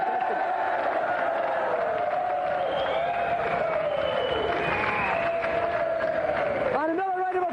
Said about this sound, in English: And another round of applause for Pat and Emily Cass.